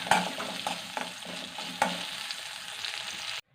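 Onion sautéing in a pan for pappadam chutney, a continuous soft sizzle with several spoon scrapes and knocks against the pan, close by, ending abruptly in silence; no talking.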